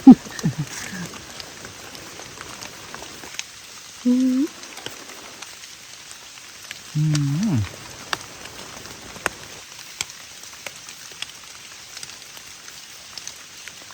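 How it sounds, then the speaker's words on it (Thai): Rain falls in a forest while mushrooms are being gathered, a steady soft patter of drops throughout, with a few brief voices speaking now and then over it. "ฝนตก ว่ะ"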